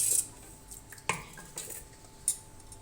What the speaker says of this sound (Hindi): इसमें हम डालेंगे 3 टेबल स्पून ऑयल